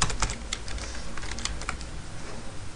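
Rapid clicking keystrokes on a computer keyboard as a folder name is typed, a steady close run of light taps with no voices.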